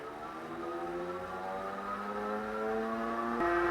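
The motor of a Jansno X50 electric bike spins up on a dyno, a rising electric whine with stacked tones climbing steadily in pitch, close and moderately loud, with a sudden pitch jump near the end.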